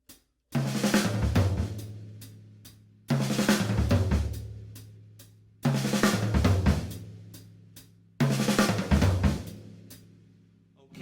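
Drum fill from a live performance, played at full tempo across mounted tom, snare and floor toms, repeated four times as quick rolling bursts that each end on booming, ringing low tom hits.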